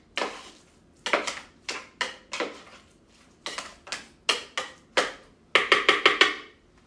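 A spoon clacks against a bowl while stirring roasted pumpkin and basil dip, a series of sharp irregular knocks and scrapes ending in a quick cluster of taps, close and alone.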